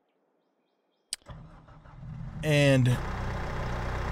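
A skid steer in Farming Simulator 22 starts up with a click, a whining crank and a louder surge before settling into a steady engine idle, with someone talking over it.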